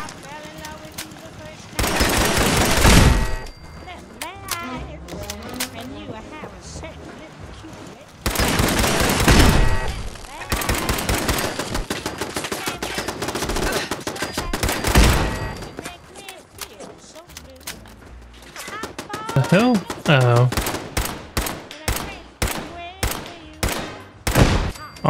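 Turret gunfire in Fallout 4, heard as repeated bursts of rapid shots and loud blasts spread across the stretch, with quieter gaps and game sounds in between.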